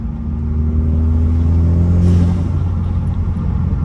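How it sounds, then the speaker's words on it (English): Modified Audi with an aftermarket intake and turbo, steady loud engine rumble with a brief rising whoosh and flutter near the middle, heard close and alone. "Oh, the flutter is so good. I will say the intake's not quite as loud as I thought it would be."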